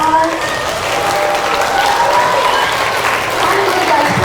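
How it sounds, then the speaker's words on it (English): A middle school audience of incoming sixth graders applauds loudly at a school presentation, a sustained wash of clapping from a large crowd holding steady from start to finish. "Give him a round of applause."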